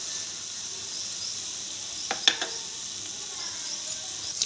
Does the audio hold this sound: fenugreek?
yes